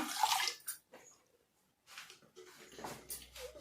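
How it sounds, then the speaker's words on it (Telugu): About 1.5 glasses of water pour into a pot on a lit stove in a short splashing burst, stop, then trickle and splash again, close and fairly quiet. "నీళ్ళు పోసుకున్నాను."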